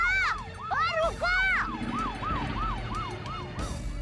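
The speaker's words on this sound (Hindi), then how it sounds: "मतलब मैंने अपने मोबाइल से पुलिस की सायरन बजाई थी।" A police siren played from a mobile phone wails in rapid rising and falling sweeps, fairly close and steady for about four seconds with a faint background rumble.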